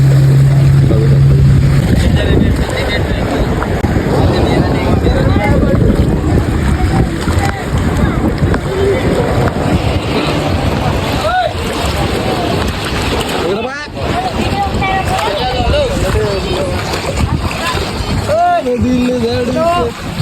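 A boat heads out to sea off Grand Island, Goa: continuous loud engine and wind noise with water splashing against the hull, and people talking and calling out throughout.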